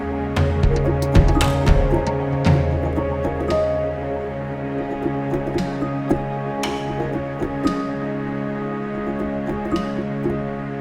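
Ambient keyboard music mixed close, where soft tones are accompanied by prominent mechanical clacks and thumps of keys being pressed down, irregular and percussive, over a sustained harmonic bed.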